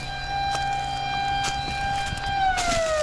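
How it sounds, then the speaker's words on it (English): A river warning siren on the Susquehanna sounds for rising water levels, a steady wailing tone heard outdoors at moderate distance that starts to drop in pitch toward the end, with faint knocks and clatter nearby. "That siren means that the water level is going to rise fairly quickly."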